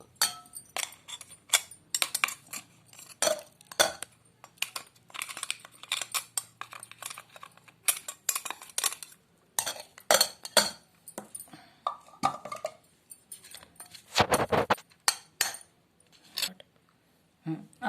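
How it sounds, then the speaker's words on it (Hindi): Freshly ground garam masala is moved from a mixer jar into an airtight container, heard as a run of irregular close clinks, taps and scrapes of metal and glass with short pauses between them. "अब ये मिक्सी से मैंने निकाल के इसे एयर टाइट डिब्बे में डाल दिया है"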